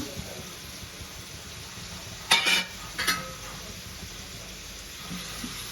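Chopped onions frying in oil give a soft, steady sizzle under a faint background hiss, broken by two brief louder scraping stirs near the middle.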